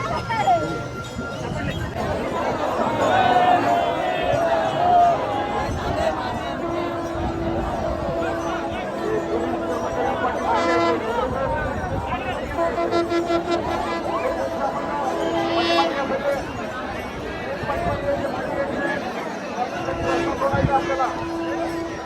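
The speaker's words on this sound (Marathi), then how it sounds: "गर्दी बघू शकता तुम्ही." Dense crowd of pilgrims at the Palkhi procession in Pune, with steady babble of many voices, shuffling and occasional jingling bells, plus faint melodic tones running through the continuous hubbub.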